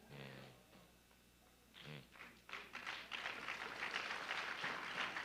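A conference audience breaks into clapping, with a speaker's voice heard first, then scattered claps that build into moderate, steady applause.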